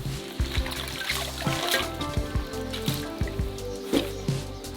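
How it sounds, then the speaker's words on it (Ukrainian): Running water trickles and splashes steadily while an onion is rinsed and rubbed under the stream, with occasional soft squishy handling sounds up close. "Тепер у чистій воді миємо цибулю."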